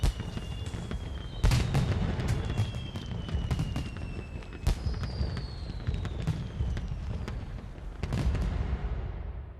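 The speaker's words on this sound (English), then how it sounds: "Yay, fireworks." Fireworks bursting in the PS4 game Yakuza: Like a Dragon during a New Year's scene, a run of sharp booming cracks at irregular intervals with faint whistles and rumbling between them.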